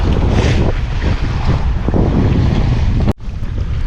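A sailing yacht under way at nearly 8 knots with the tide off the west side of Kintyre in Scotland, loud rushing water and heavy wind buffeting close by, with a brief dropout near the end.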